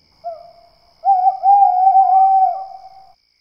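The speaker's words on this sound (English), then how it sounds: "Oh, it's just an owl." An owl hoots close and clear in a quiet night setting by a lake: a short soft note, then a long, loud, wavering hoot lasting about two seconds, with no other sounds around it.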